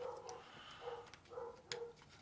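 A dog barks indoors in faint short repeated bursts in the background, roughly four yaps spread unevenly across a brief stretch with quiet in between.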